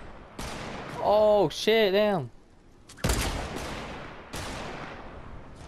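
Gunfire in a shooting video game, a few loud separate shots with long decaying tails, close and sharp, following a brief tonal game sound and a voice exclaiming.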